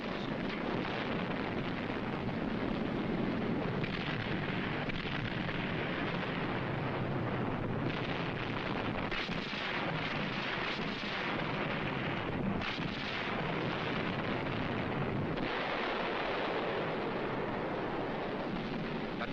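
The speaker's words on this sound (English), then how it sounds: "Underwater demolition teams blow up beach obstacles." Heavy, continuous booming and rumbling from rockets fired from ships and demolition blasts on a beach, dense and loud throughout with crackling noise.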